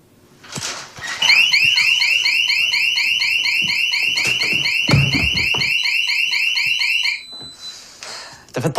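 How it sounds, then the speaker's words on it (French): A home security alarm system sounds a loud, rapid repeating electronic warble that runs steadily for about six seconds before cutting off, with scattered thumps and movement noises around it. "T'as fait poser un système d'alarme."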